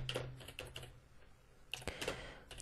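Quiet, close keystrokes on a computer keyboard come in a few scattered bursts of clicks, with no talking.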